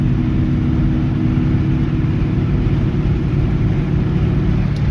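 A 1950 Ford F-1 pickup cruising in fourth gear at about 50 mph, its engine a steady, loud low drone with road rumble filling the cab, unbroken throughout.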